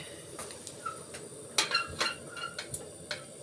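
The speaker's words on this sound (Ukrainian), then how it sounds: "зараз поставимо на нього каструльку і закип'ятимо літрушечку води" A metal pot is set down on a gas stove with a few light clanks and clinks, close by, scattered irregularly over a few seconds in a quiet room.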